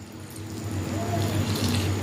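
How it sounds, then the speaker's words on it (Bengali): A little water poured into a cooking pot of taro leaves with hot chilli, heard as a steady soft splashing wash of liquid that runs continuously and close by. "অল্প জল দিয়ে দেব"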